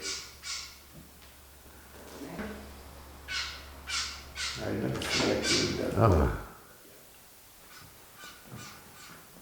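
A crow caws several times, short harsh calls scattered through the clip, while someone talks over them at close range.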